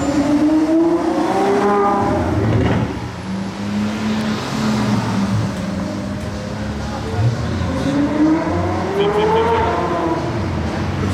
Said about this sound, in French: Un bruit de F1, cette 812.